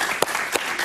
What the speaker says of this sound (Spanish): Aplauso para ella, por favor.